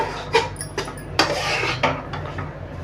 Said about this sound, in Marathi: चांगलं असं भाजत आहे त्याला फिरवतच राहायचं हळूहळू